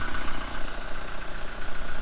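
A 2018 Toyota Revo 2.4 pickup truck engine idles nearby, a continuous low rumble with a faint whine, unchanging throughout.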